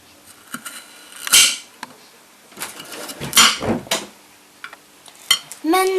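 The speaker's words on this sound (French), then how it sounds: "il faut couper en petites rondelles" A knife cuts carrots into small rounds on a board, heard as sharp intermittent chopping knocks and clatters at close range, spaced unevenly with short pauses.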